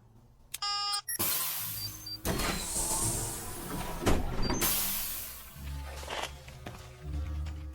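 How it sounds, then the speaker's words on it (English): Door being unlocked and opened in a radio drama: a rattling key and lock click, a creaking swing of the door, then muffled footsteps and shuffling in a room, with no talk. "I'll unlock the door."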